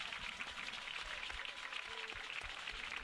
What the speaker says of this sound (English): Big round of applause for the Gravette line there.